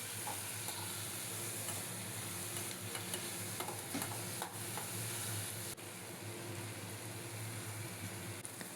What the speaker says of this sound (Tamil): இப்போ சேர்த்து நல்லா வதக்கிக்கலாம்.